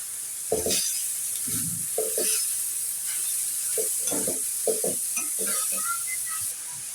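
Kalakuch leaves stirred into shrimp already frying in a pan: a steady sizzle underneath, with short, irregular bursts of scraping and stirring scattered across the clip.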